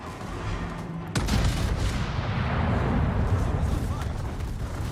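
Naval battle in the World of Warships game: a heavy boom of gunfire erupts and gives way to a dense, continuous roar of rocket and shell explosions, loud and sustained.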